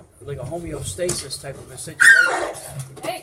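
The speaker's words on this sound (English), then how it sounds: "pardon the dog interruption." An indoor dog whimpers and lets out yips and short barks in bursts, close and fairly loud, breaking in over people talking in the room.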